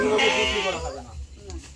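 A goat gives a single loud, close bleat, then a person speaks over faint background noise.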